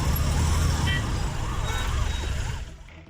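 An ambulance siren wails with a rising-falling tone through heavy, congested road traffic in Sempatti, Dindigul district, Tamil Nadu, loud and close, with a dense rumble of engines and vehicles underneath that fades slightly at the end.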